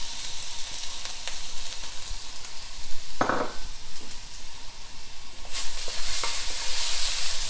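Garlic and ginger stir-fry in sesame oil in a pan for a Cantonese-style steak, with a loud continuous sizzle broken by scraping stirs and a clatter of the utensil about midway.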